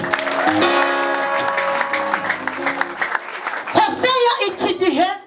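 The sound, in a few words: applause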